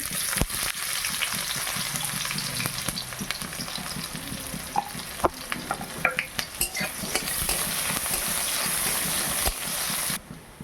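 Whole cumin seeds and chopped onion frying in hot oil in a kadai, a steady close sizzle and hiss throughout with scattered crackles and a few stirring scrapes, no talking.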